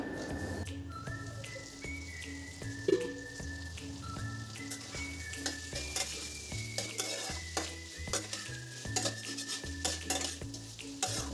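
Potato and pointed gourd curry being stirred in a pan: rhythmic scrapes and clinks of a spatula over a soft, continuous sizzle, close and fairly quiet, with no talking.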